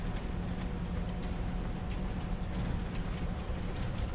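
Train rumbling at a train dumper in Farming Simulator 22, a steady low mechanical drone that holds level throughout with no talk.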